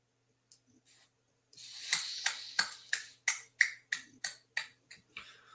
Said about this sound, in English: I wonder if it's genuine or sarcastic rounds of applause.